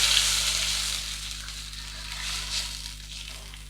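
Steady sizzling of onion and tomato frying in a hot pan, a continuous crackling hiss with no talking.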